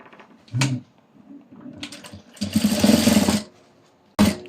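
A sewing machine stitches the shoulder seams of a long frock with a half-inch seam allowance: a short burst, a few lighter runs, a longer steady whir, then one more brief start at the end, all close with no talking.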